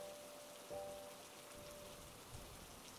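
Steady rain falls on surfaces outdoors, a soft continuous hiss with faint patter, even and unbroken throughout, no voices.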